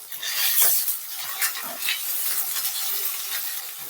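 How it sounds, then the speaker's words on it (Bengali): Pieces of food sizzle and hiss steadily in hot oil in a pan, close up, with occasional stirring scrapes. "চলো পনিরটা ভেজে নিচ্ছি"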